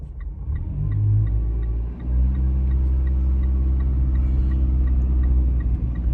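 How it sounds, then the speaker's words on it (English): A 2016 Mitsubishi Lancer with a failing transmission that won't shift, its engine revving hard under heavy throttle in a steady loud drone with a brief dip near two seconds, close by with no talking. "Gonna have to give it a lot of gas just for it to get going."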